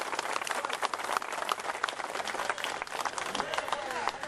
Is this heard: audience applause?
yes